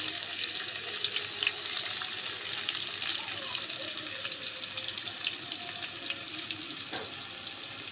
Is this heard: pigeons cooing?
no